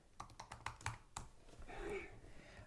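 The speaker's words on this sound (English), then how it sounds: "They can hear the typing." Quiet bursts of typing on a computer keyboard, a quick run of distinct clicky key taps close by, followed by a softer rustle.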